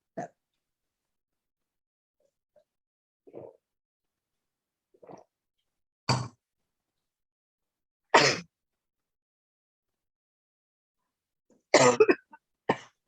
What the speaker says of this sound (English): I hardly coughed all day and now I'm coughing.